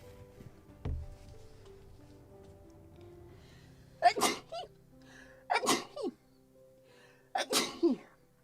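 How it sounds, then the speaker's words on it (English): Three sharp allergy sneezes burst out one after another, close and loud, with breathy intakes between them, in a quiet workshop during a model-building session. "I have this tradition to sneeze always 3 times"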